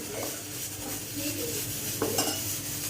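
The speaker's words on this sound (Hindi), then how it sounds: "अभी इन सब मसालों को और इन बेसन को अच्छी तरह से थोड़ा मैं कुक करूँगी।" Spices and gram flour (besan) cooking with water in a pan for chole, a soft steady sizzle with a few clinks of utensils against the pan, fairly quiet and without talk.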